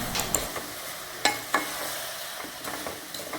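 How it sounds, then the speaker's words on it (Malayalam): Jaggery syrup being stirred into flattened rice (avil) with a spoon, a few soft scraping strokes and faint sizzling, quiet and sparse, with no talk. "അതും കൂടി നമുക്ക് ഇതിലേക്ക് ഒഴിച്ച് കൊടുത്ത് ഒന്ന് ഇളക്കിയെടുക്കാം"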